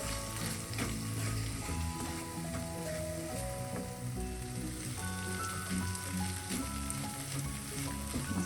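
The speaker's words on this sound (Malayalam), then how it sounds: "ഈ പൊടികളെല്ലാം ഈ ഓയിലൊന്ന് മൂപ്പിച്ചെടുക്കാം." Spice powders sizzle and roast in hot oil for a mackerel fish curry, a steady, soft crackling fry that continues throughout without voices.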